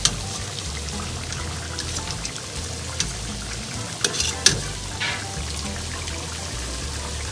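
Whole spices being scooped out of a pot of boiling water while making chicken dum biryani: a steady bubbling rumble, with a few light clinks and scrapes of a ladle against the pot and no talking.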